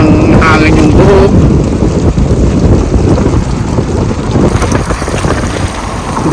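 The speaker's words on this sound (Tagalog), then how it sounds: "Bagyo pa, napakalakas kasama nitong hangin na ito." Strong storm wind buffets the microphone as a steady, loud roar with gusty low rumble throughout, with no clear talk over it.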